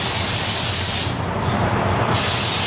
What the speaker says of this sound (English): I'm using air freshener on my hair.